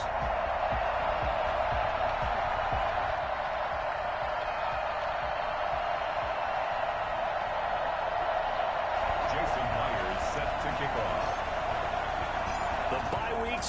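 Steady, dense roar of a football stadium crowd in a video game, the Dallas Cowboys facing the Baltimore Ravens, holding a constant wash throughout with a commentator talking over it.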